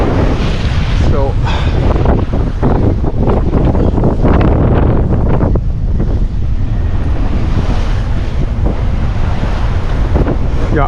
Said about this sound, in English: Just about to be sunrise and the wind found us